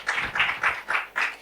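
Five loud, evenly spaced claps ring out close by, in a steady rhythm at a networking conference.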